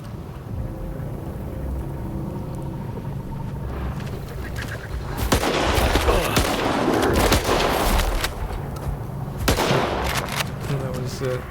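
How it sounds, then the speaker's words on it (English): Pump-action shotgun loaded with buckshot firing in S.T.A.L.K.E.R. 2 against a bloodsucker creature, several booming blasts over a busy, noisy game background. "Pump action shotgun, and again this is going to be with the BUCKSHOT."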